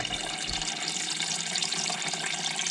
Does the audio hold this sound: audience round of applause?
no